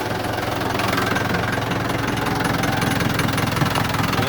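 A Perkins 1104 diesel engine with excessive coolant pressure running steadily, a loud continuous mechanical clatter and rumble that holds constant throughout with no talking.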